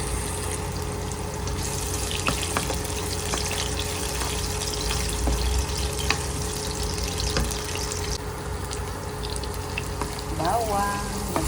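Chopped onion sizzles and crackles in hot cooking oil in a pan, a steady close frying hiss with occasional stirring noises.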